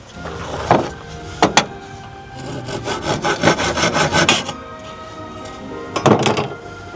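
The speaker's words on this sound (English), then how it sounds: "I'm gonna clean these up with the handsaw" A handsaw cuts wood for an outdoor stool in short bursts of rasping strokes, with a quick pair of strokes early, a longer rhythmic run in the middle and a final burst near the end, close and fairly loud.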